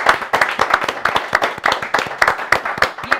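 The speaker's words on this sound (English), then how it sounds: "I want a big round of applause for our artist Carly, DC, and Mike." Audience applause for the artists at The Foundry and Made With Mischief live event: a modest crowd claps in uneven, crisp bursts with repeated sharp peaks, near and fairly loud, with no talk over it.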